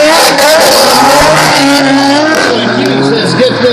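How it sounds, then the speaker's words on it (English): Loud drift car at the Archerfield drifting event, engine revving hard and holding high as the pitch shifts, with tire noise and a commentator talking over it. "Chris Zirk well and truly on the loud pedal."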